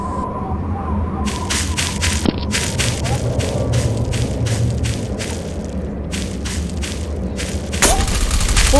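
Rapid automatic gunfire fills most of the stretch, with loud, evenly spaced shots in long bursts and short gaps, then a brief lull and a final louder burst.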